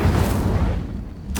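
A fire spell cast in Hogwarts Legacy, a loud booming blast with a dense rumbling body that holds steady, then a sharp bright burst at the very end.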